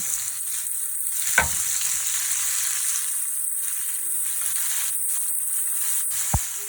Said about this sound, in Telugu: ఇలా కట్ చేసుకున్న పాలకూర వేసుకొని ఫ్రై చేసుకోవాలి